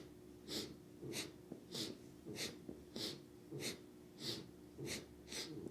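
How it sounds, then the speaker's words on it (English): Kriya breathing exercise with rhythmic, forceful breaths, each one caught on the inhale and thrown out on the exhale, about nine sharp nasal puffs at a steady pace, close and alone. "Catch the breath as it comes in and throw it away as it goes out."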